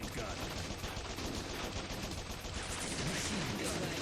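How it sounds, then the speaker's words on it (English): Dense, continuous automatic gunfire from a machine gun in the PC shooter game Bot Vice, a steady loud crackle of rapid shots filling the whole stretch without letup. "Machine gun it up for these last few dudes"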